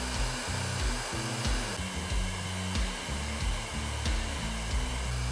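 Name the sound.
blow dryer heating a dented bumper cover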